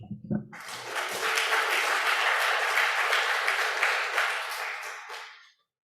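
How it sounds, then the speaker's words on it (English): Audience applause at a youth poet laureate ceremony: after a brief spoken line, a crowd claps steadily and evenly for about four seconds before quickly tapering off into silence. "So please clap for Eve."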